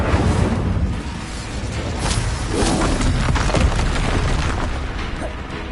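A fiery spell in the Hogwarts Legacy game blasts out as a loud booming burst with crackling roar, sustained for several seconds amid combat noise.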